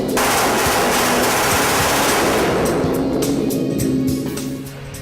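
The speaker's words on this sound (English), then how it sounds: "So we test obviously each pistol with an entire pistol magazine" A Beretta 9mm pistol is test-fired at the factory through a full magazine. The shots come loud and continuous, blurring into a dense roar, then ease off toward the end.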